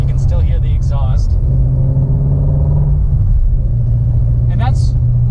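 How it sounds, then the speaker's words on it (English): A Ford Shelby GT350 exhausts steadily while driving, heard from inside the cabin with the windows partly up as a loud, continuous low rumble; people talk over it. "Roll up the windows a little bit so the sound quality is not horrible, but you can still hear the exhaust."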